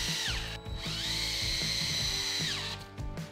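A power drill drives screws into 2x4 lumber for workbench legs, its whine rising, holding steady at high speed for about two seconds, then winding down, with a few clunks of wood, up close and fairly quiet.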